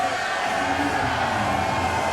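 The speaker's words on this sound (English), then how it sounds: "You hear the crowd erupt there for the champ." A large wrestling crowd roars and cheers continuously for the champion at a main event, a dense wash of voices and yells filling a big arena.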